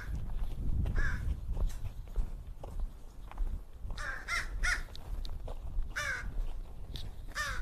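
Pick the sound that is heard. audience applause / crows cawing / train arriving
crows cawing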